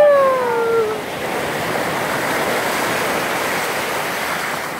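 Ocean surf washing in at Huntington Beach Pier in Los Angeles, a loud steady roar of breaking waves with wind buffeting the microphone and a brief whistling tone at the start.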